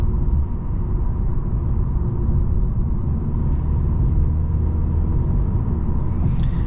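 A 2023 Mercedes CLA 250 with its 2.0-litre engine drones steadily from inside the cabin while driving, a deep, continuous low rumble that holds even throughout, with no voices over it.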